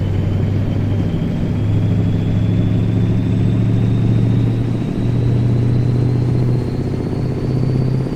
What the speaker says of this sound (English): we can listen to the Mac engine revving up a little bit